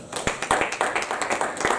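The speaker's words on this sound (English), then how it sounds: "Clap your hands and celebrate Jesus." A church congregation claps hands in a roughly rhythmic pattern, sharp distinct claps repeating quickly and close by across the short stretch, with a faint murmur of voices beneath.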